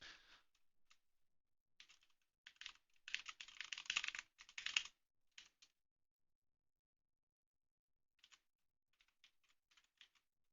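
Bursts of rapid key clicks from a computer keyboard during a game development session, irregular clusters of typing with pauses between them, close and fairly quiet, no talking.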